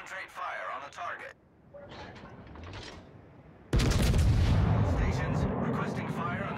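Warship guns firing in the World of Warships naval game, with heavy booming salvos and a sustained loud rumble of gunfire that swells partway through, while a voice speaks over the battle.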